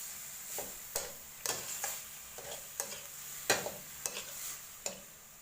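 Beans being stir-fried in a pan with a little water, a light sizzle under a dozen or so sharp scraping and tapping strokes of a spatula against the pan, irregular and fairly close.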